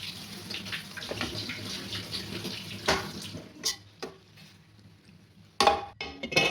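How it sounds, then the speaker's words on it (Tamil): A cup of water splashes into a pot of grated carrots and milk while making carrot halwa, a steady pouring gush that tapers off into scattered drips and clinks of the pot. "ஒரு கப் தண்ணி ஆட் பண்ணிவிட்டு நல்லா மிக்ஸ் பண்ணணும்."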